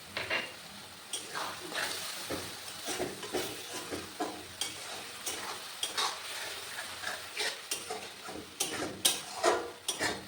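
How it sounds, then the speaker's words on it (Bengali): Rinse water from a spice bowl goes into raw jackfruit curry frying in a pan, raising a steady sizzle. Scraping stirs and light clinks of a utensil against the pan sound close by throughout. "মশলার বাটি ধোয়া জলটা দিয়ে দিলাম।"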